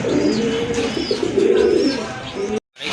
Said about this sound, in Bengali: এখানে আরেক জোড়া রাজগোল্লা কবুতর আছে